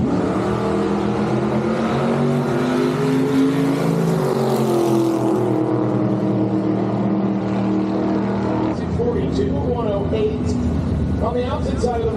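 At a drag strip, a supercharged 1958 Corvette gasser and a Studebaker gasser drone loudly, the engine note rising and then settling. An announcer talks over the racket and the crowd noise.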